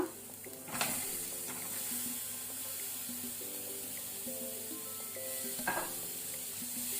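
Tomatoes frying over a medium flame make a soft, steady sizzle with a couple of sharper stirring clatters near the start and end, moderately faint, no voices.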